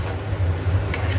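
Poppy seeds (posto) frying and being stirred in a pan, a soft continuous sizzle with faint scraping from the stirring, steady and close with a low hum beneath.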